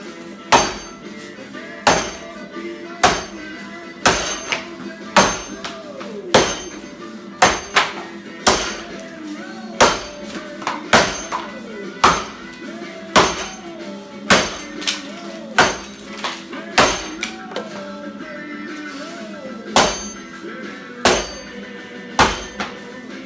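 An axe chops into a softwood log during timbersports event training, landing loud, close, sharp strikes at a steady pace of roughly one per second across the whole stretch.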